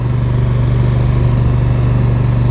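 A John Deere 4240 tractor with a loader runs steadily close by in a field, its diesel engine a constant loud low hum and throb with no talk.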